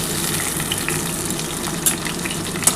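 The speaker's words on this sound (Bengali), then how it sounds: "আর দেখো এই যে সামান্য অল্প একটু গোটা জিরে ফোড়ন দিলাম।" A small pinch of whole cumin seeds, alongside cloves and cardamom, sizzles in hot oil as tempering for a mutton keema bora curry: a close, steady frying hiss with a few sharper crackles near the end and no voices.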